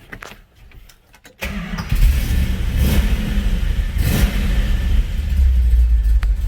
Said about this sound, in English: What do you say we get inside here and fire it up?